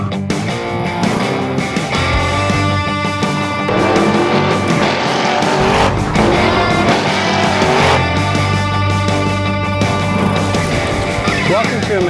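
A 1968 Camaro in Midnight Teal Metallic doing a burnout, its engine roaring loudly with rising and falling revs and tire squeal layered over it, alongside music and a voice for the whole stretch.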